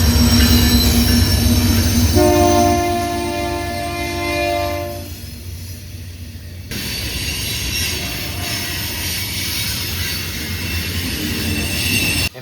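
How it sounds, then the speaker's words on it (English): An eastbound CPKC manifest freight train rolls past the old Sioux station in Minot, loud and close, its wheels squealing in sustained high tones over a continuous rumble of railcars. "an eastbound CPKC manifest, which I caught passing the old Sioux station in Minot"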